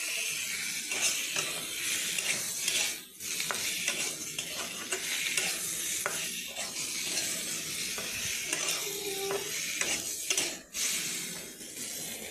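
Potato curry being stirred in a pan after coriander and cumin powder are added, with steady sizzling and frying under repeated scraping and clinking of a spoon against the pot, close and continuous without talk.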